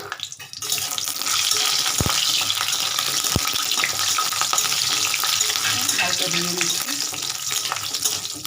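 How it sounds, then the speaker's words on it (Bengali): Lentil dumplings (bori) frying in raw mustard oil in a home kitchen in Bengal: a loud, steady sizzle with a bubbling crackle that runs the whole time, with a couple of sharp knocks near the start. "আমি কাঁচা তেলে ভাজি কটা আমি বড়িটা ভেজে নিচ্ছি"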